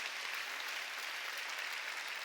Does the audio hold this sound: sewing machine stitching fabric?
no